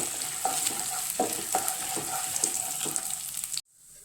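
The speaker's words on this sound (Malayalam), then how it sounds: "കശുവണ്ടി എല്ലാം കൂടി നന്നായി ഇളക്കി കൊടുക്കുക." Cashews sizzle in hot oil in a pan on a low flame while a spoon stirs them in steady scrapes, continuous close frying until the sound cuts off abruptly near the end.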